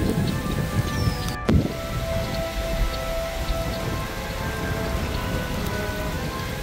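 Rain pouring onto a flooded garden, a steady close wash of drops spattering on wet surfaces with a brief sharp knock early on, constant and loud with no voices.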